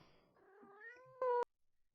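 A cat in the horror game Ice Scream 2 gives a single drawn-out rising meow that ends in a loud, sharp peak, clear and close against near silence.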